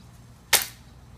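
M15 A1 carbine fires a single sharp, loud gunshot outdoors, a sudden crack with a brief decaying tail against quiet background.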